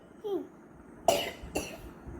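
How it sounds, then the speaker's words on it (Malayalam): A child coughs twice in quick succession, sharp and close, after a brief bit of quiet child vocalizing, in an otherwise calm room. "നല്ല ചുമയാണ് guys."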